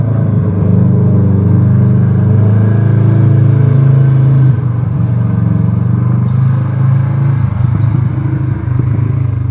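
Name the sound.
all-terrain vehicle engine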